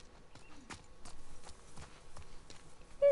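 Video game horse hooves clip-clop at an uneven walking pace, faint and fairly close, with soft clicks between the steps and no talking.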